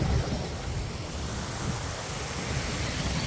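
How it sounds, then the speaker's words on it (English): A small waterfall on a stream below a bridge, a constant broadband rush of falling water with a low rumble, steady and fairly close, with no voices. "Small waterfall."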